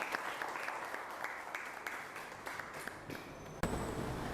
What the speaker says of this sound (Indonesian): Beri tepuk tangan untuk Abimanyu.